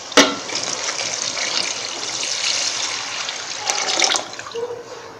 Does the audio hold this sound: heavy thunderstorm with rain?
no